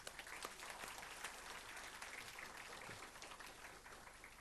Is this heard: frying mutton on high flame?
no